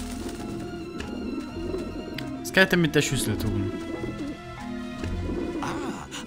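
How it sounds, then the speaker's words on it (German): Pigeons cooing near a rooftop exhaust vent in the adventure game Grim Fandango, soft repeated coos beneath a German-speaking voice, with a louder clatter of sound in the middle. "Anscheinend mögen die Tauben diesen Abluftschacht."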